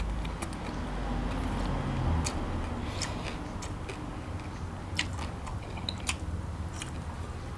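Close, moist chewing and biting sounds while eating grilled chicken with spicy Thai papaya salad outdoors, soft squishy mastication with occasional crisp clicks, no talking.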